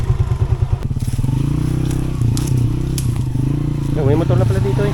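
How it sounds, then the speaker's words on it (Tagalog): A motorcycle engine rumbles nearby with a steady low throb and some rattling, while a person talks over it near the end. "May motor na pala dito"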